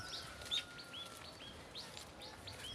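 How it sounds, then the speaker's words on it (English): Several birds sing and chirp around a village, repeated short bright calls over a soft background hush, moderately distant and without talk. "It's actually the birds only that are active here and like singing."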